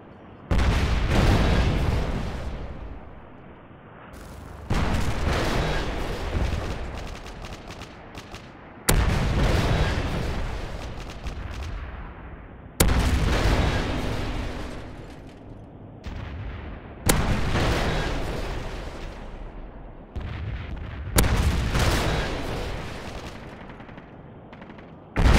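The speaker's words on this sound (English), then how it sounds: "Friendly Predator missile inbound" Heavy explosions from a Predator missile strike in Modern Warfare 3 multiplayer, a series of six loud booming blasts a few seconds apart, each with a long rumbling decay.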